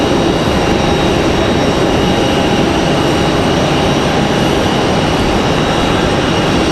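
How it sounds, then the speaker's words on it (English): A Delta Airbus A319 jet departs Raleigh-Durham International Airport, its loud, steady broadband engine roar filling the whole stretch without a break. "Got a Delta, looks like another A319 headed out as well."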